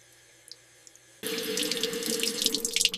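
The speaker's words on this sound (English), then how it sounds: "I turn on the water." A household tap runs into a sink. After a quiet stretch with a few faint ticks, the water comes on abruptly and keeps up a steady, close splashing rush.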